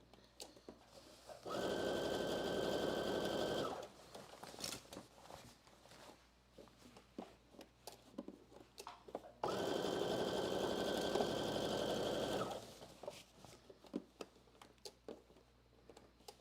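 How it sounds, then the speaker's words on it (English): Sewing machine stitching straight across a muslin seam, two steady loud bursts of motor whir of about two and three seconds, separated by quieter handling sounds. "And now I'm going to sew all the way across."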